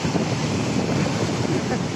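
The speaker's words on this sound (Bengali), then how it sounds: "এখন ঢেউ সব নিয়ে যাবে।" Ocean waves surging over a sandy beach with a steady, loud wash of surf and heavy wind buffeting the microphone, continuous with no break.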